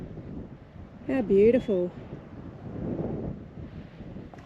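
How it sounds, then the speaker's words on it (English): Wind gusting across the microphone at a hilltop lookout in Broken Hill gives a steady low rumble throughout, with a brief spoken exclamation partway through. "it's quite windy at the top and a little bit chilly"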